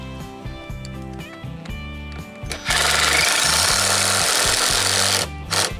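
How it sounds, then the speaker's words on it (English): A power drill drives screws into a wooden deck post, with pulsing motor whines in short bursts, then a long loud grinding buzz as a screw seats, and a brief final burst, close and without talk. "we run some screws in. here into the post."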